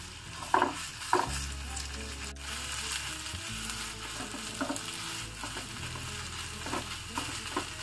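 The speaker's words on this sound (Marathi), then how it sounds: "तो पण ह्या तेलामध्ये आपण व्यवस्थित परतून घ्यायचा आहे।" Onion and coconut masala sizzles and fries in hot oil while being stirred for stuffed okra, a steady crackling sizzle with occasional scraping stirs close by.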